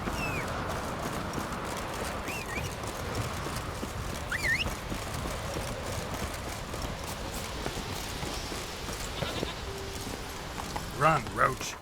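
Roach the horse galloping in The Witcher 3, a steady rhythmic clatter of hooves running through the clip, with other game sounds and brief musical tones layered over it and some louder bursts near the end.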